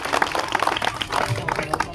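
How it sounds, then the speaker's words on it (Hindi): Audience at a disability honors ceremony in Sitapur breaks into brief applause, scattered claps crackling steadily for about two seconds at moderate volume without clear talk. "अगर सहमत है तो एक बार जोरदार फिर तालियां हो जाए।"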